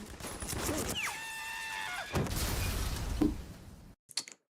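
Gunshots play from a video: a burst of sharp cracks and a shattering impact, a whistling rising tone, then a few more shots, with a brief faint pop after a sudden silence.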